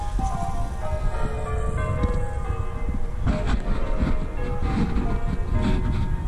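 Steady ringing of church bells with rich sustained tones over a continuous outdoor rumble, no voices.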